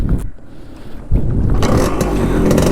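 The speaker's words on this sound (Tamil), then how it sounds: "இந்த வண்டியை கொஞ்சம் ஆன் பண்ணி இன்ஜின் சவுண்டை மட்டும் கேட்டுடலாமாங்க." After a brief scrape and pause, a stock Yamaha RX100 motorcycle engine catches and settles into a loud, steady rumble that fills the rest of the moment.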